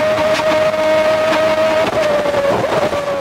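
Formula 1 racing cars scream past at full speed along the pit wall, a high, sustained engine whine with brief surges as cars pass close by, loud and continuous with no talking.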